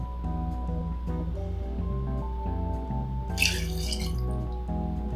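Gin is poured from a jigger for a martini: one short, splashy liquid burst about midway through, over steady background music.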